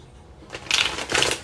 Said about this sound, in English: I don't know what is up with this deck. It does not want to be shuffled.